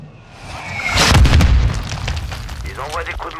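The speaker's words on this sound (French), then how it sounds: "Ils envoient des coups de mortier." Mortar rounds explode in the Call of Duty Modern Warfare II campaign, a deep heavy boom rolling out near the start and fading into rumbling debris, with faint chatter and effects trailing afterward.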